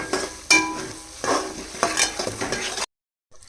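Stone salt being stirred into a simmering Nellore fish curry, several scraping strokes of a spoon through the sizzling pot, close and fairly loud, then silence after a sudden cut near the end.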